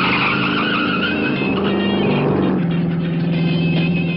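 A cartoon car drives along in an animated show, its engine roaring loudly with a skidding, squealing edge that shifts pitch partway through, steady throughout.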